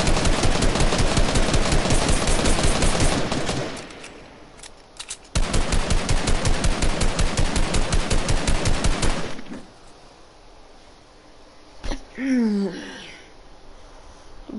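Rapid automatic gunfire from a video game 1v1 match rattles out in two long, dense bursts of closely spaced shots, loud and near, followed by quieter stretches with a brief voice-like sound.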